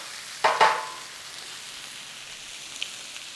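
Corned beef frying in a pan, two quick scraping stirs as it is turned, then a soft steady sizzle with a faint tick near the end.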